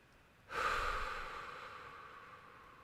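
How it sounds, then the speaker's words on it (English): A single deep breath drawn in and slowly let out, close and fairly loud, starting abruptly and fading gradually as it trails off, with no talking. "Deep breath."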